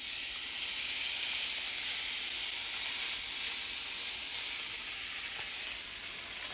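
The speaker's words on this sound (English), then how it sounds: "we have our brisket here with a thin coat of oil on top just so it can make direct contact with that hot pan" Brisket coated thinly with oil sears on a hot pan, giving a steady, bright hiss of sizzling that holds even throughout, close by with no voices.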